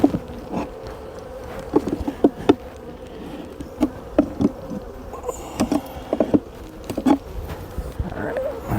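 Honey bees buzz around an open hive during an inspection, a steady hum of many insects with close, brief louder passes of individual bees near the listener, and no talking.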